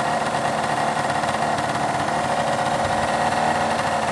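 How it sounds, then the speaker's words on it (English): A 1985 Honda Gyro scooter engine idles steadily after a carburetor cleaning and adjustment, giving a close, even, buzzing putter that holds constant throughout with no voices. "put it back in, adjusted the carb, and now I've got a really good idle"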